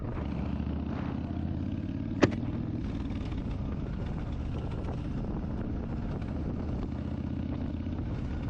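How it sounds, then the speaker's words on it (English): A helicopter flies over the road between Bar Harbor and Northeast Harbor on Mount Desert Island, its steady low rotor rumble blending with continuous car and road noise, broken by a single sharp click partway through. "Nice chopper."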